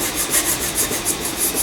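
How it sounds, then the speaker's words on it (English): Fillets on a fiberglass high-power rocket kit being sanded by hand, a steady back-and-forth rasping scrape in even strokes, close and moderately loud with no talking. "Now once I finish sanding all of the fillets"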